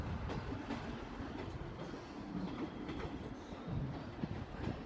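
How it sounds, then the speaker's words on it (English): Class 158 diesel train 158766 departing platform zero at Cardiff Central, heard as a steady rumble and clatter of rolling wagons with faint wheel squeal, fairly distant and continuous. "now leaving off platform zero at Cardiff Central."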